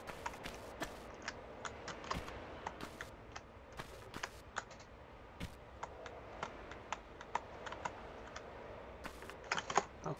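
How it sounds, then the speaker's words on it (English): Computer keyboard keys clack in quick irregular bursts during a Tomb Raider session, sharp close clicks scattered over a quiet background with no talking. "I'm sure the clacks on the keys are getting slightly louder every time."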